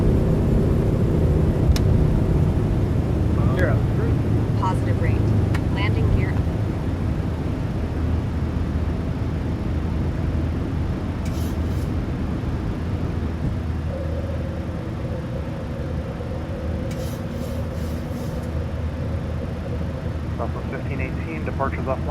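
A Boeing 737 lifts off and climbs in a flight simulator, its engines making a continuous low roar with a faint tonal whine, while brief beeps and clicks sound and a voice talks intermittently over the noise.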